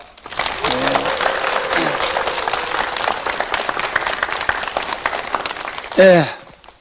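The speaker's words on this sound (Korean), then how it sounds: "큰 박수로 청해 듣겠습니다" An audience in a lecture hall claps warmly to welcome the lecturer, a dense, steady round of applause that fades out, with a voice rising briefly near the end.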